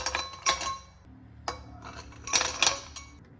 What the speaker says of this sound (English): Add ice to the serving glasses.